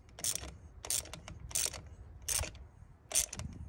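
A wrench ratchets in five quick bursts of clicking, about one burst every 0.7 seconds, close and clear, while the glow plug is changed on a 2015 VW Passat TDI.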